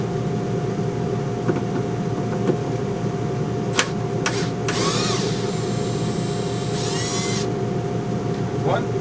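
A cordless screw gun backs screws out of an old RV TV mount in a 2008 National RV Tropical. Two short rising motor whines stand out over a steady humming background, with a few sharp clicks before them.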